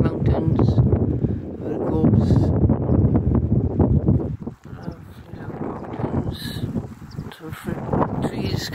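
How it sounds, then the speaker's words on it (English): Strong wind on a mountain at Llyn Brianne dam, Wales, buffets the microphone in a loud, continuous low rumble with gusty swells, briefly easing midway before picking up again. "It's very windy up here."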